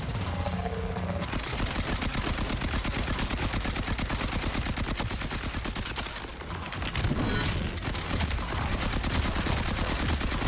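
The Hot Slugger shotgun fires in Borderlands 4: loud, rapid, continuous volleys of gunfire with mechanical clatter, running nearly unbroken through the whole stretch with no speech.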